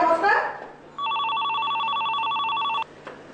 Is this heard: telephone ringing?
yes